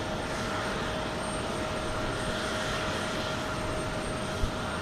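Jet engines of an airliner in Star Alliance livery at Houston Intercontinental produce a constant, fairly distant broadband roar with a thin steady whine, even in level apart from one brief thump near the end.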